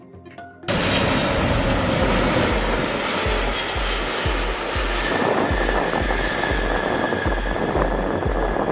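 Inside the cabin of a Biman Bangladesh Boeing 777-300 charter flight, a loud, steady roar of jet engines and airflow fills the space after a brief quieter moment at the start, constant and close.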